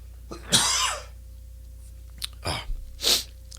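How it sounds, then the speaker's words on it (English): A single person coughs and clears their throat several times in short bursts, close and loud, with quiet pauses in between and no talking. "excuse me, I have to cough for a second."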